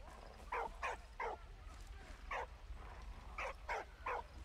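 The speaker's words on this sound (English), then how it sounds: "He's just barking at fire." A dog in the World War I game Valiant Hearts: The Great War barks at a fire in a series of sharp, evenly spaced barks in two bursts, moderately close over a low steady background hum.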